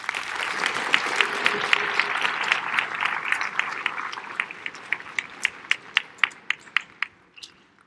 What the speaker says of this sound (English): Please give these students a round of applause.